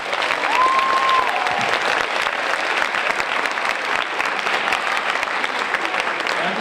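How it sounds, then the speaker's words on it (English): An audience applauding student speakers at a Martin Luther King Jr. sophomore speech celebration, loud sustained clapping from many people with a brief whistle-like tone early on. "Can we give everyone a round of applause?"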